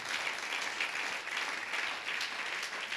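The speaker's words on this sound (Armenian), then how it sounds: "ովքեր որ օրհնվեցան, թող ծափտան Տիրոջը" A church congregation applauding, a dense, steady wash of many hands clapping together that fills the room at an even level with no pauses or voices.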